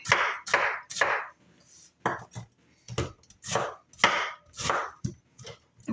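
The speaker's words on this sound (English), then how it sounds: "take this pineapple and we're just going to go through it long ways. And we're just going to cube it up" A knife cutting pineapple into cubes on a cutting board makes a steady series of crisp, close chops, about ten distinct strikes in uneven rhythm with brief pauses, and no talking.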